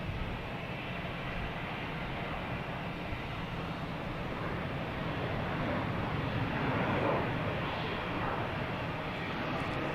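A Delta Airbus A321 arriving from Detroit at Boston Logan Airport gives a steady, broad jet roar that swells slightly as it comes closer, with no talking over it.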